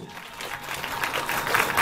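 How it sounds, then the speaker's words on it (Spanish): Audience at a Mexican calavera theatre show at Six Flags México clapping together on cue, a dense burst of applause that grows steadily louder across the short stretch. "A las tres van a aplaudir todos."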